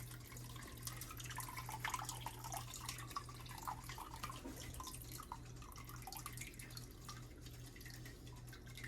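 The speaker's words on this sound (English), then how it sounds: "Until I just get a big ball and the whey stops dropping out." Whey drips and trickles from cheese curds being rolled in a colander while making homemade Amish Velveeta, a faint, irregular patter of drops over a low steady hum, close by and with no talk.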